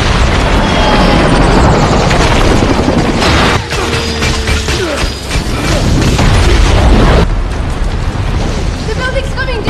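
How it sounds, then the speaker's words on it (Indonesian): Loud, sustained explosion and fiery destruction from an action film, a dense roaring rumble with crackling debris and a shift partway through, continuing without a break for nearly ten seconds. "Seketika tempat itu pun meledak dan dipenuhi oleh api."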